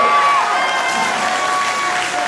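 Audience applause rings out after a boxing bout at an amateur boxing gala in Pessac, a loud, continuous dense clapping that holds steady with a faint tone running beneath.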